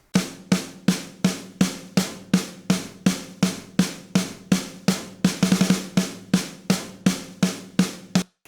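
Punk rock snare hits run through a drum booth reverb, about two strikes per second in a steady beat with a brief busier flurry midway, each hit sharp and loud with a short tail, no voices.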